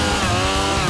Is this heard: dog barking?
no